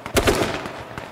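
Gunfire in the video game H1Z1 lands as a short burst of a few rapid reports, loud and close, fading quickly.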